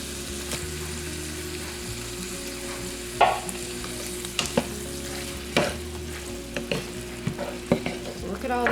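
Mild diced tomatoes with green chilies going into a casserole pan of BBQ chicken, with repeated spoon knocks and scrapes over a steady low sizzle and background hum, no voices.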